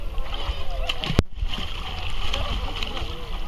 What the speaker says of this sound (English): he kicked the water in my face